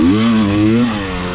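A 2020 KTM 300 XC-W TPI two-stroke motorcycle engine revs loud and close, a buzzing, steady tone that rises slightly and then eases during a short burst while riding on a trail.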